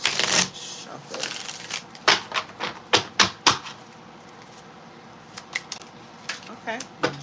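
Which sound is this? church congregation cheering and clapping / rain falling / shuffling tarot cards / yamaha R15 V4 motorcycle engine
shuffling tarot cards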